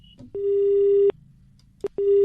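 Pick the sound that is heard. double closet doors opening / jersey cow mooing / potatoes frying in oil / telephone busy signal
telephone busy signal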